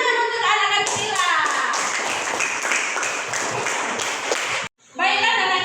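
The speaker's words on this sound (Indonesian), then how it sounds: "tepuk tangan untuk anak kami sila" Children clap their hands together in a classroom, a dense burst of claps lasting several seconds, close and loud, then a short pause before a voice speaks.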